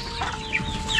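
Free-range village chickens cluck in short bursts close by, several birds overlapping against a steady hum, with no talking.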